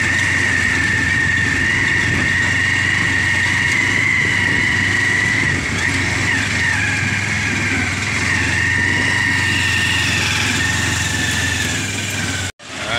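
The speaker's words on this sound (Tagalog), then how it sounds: "Malakas ang tricycle ni Kuya." A tricycle engine runs steadily and loudly throughout, a continuous mid-low rumble with a constant hum while riding along a road, with a brief dropout near the end.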